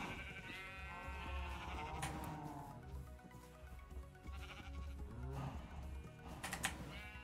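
Sheep in a video game bleat several times in quick succession, wavering calls at a moderate distance over a faint background bed.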